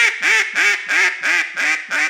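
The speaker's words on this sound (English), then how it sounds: "If I can blow quacks on the top and the bottom, heck, I know I can blow everything in between" Duck call blown by hand in a steady sequence of seven loud, close quacks, each a short nasal burst with a rising-falling pitch, evenly spaced and without talk.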